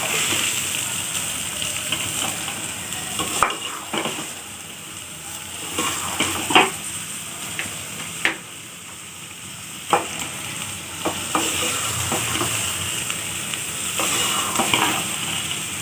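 Chopped onions fry in a pan with a steady sizzle, while a spoon or spatula scrapes and stirs them in irregular clattering bursts throughout, close and moderately loud with no talking.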